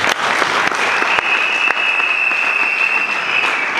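Festival audience applauding a speaker, a dense, steady wash of clapping that stays loud and even from start to finish, with a few sharper individual claps standing out near the front.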